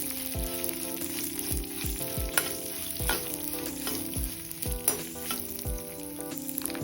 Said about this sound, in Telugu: ఎండుమిర్చి వేగిపోయాయి